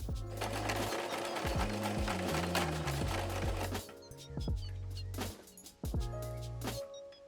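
A sewing machine stitches a diagonal seam across the placket tabs of a blouse sleeve, running in steady bursts with short pauses, close and fairly loud, with music playing underneath.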